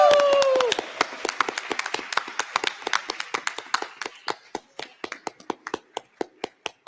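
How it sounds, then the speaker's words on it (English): Audience applause at a closing plenary session, a dense burst of many hands clapping that thins out into scattered individual claps, with a brief cheer at the start. "give Shawnice a big round of applause"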